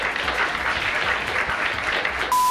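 Students applauding a teacher in a classroom, a short burst of scattered clapping and crowd noise lasting a couple of seconds before cutting off abruptly.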